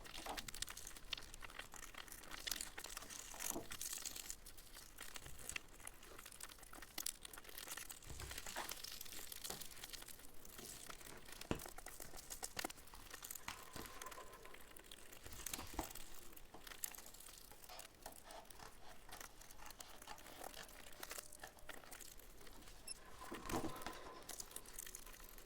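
Paper rustling and crinkling while a black paper stencil for Banksy-style street art is cut out with scissors, with scattered faint snips and crackles over a long quiet stretch, and no talking.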